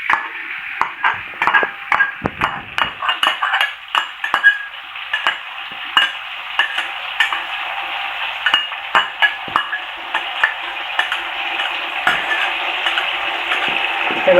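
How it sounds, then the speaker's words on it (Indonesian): Red chilies frying in hot oil in a home kitchen during preparation of a Padang-style water spinach stir-fry with shrimp-paste sambal, giving a steady bright sizzle with frequent metallic scrapes and clinks of a utensil against the pan, and no talking. "Kita goreng cabenya."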